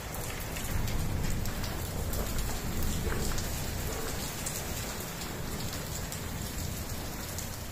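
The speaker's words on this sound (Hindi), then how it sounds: "अब साथ में ओले और बर्फ दोनों बरसने लग गई है।" Heavy rain mixed with hail pelts a surface in a dense, unbroken patter, loud and steady throughout.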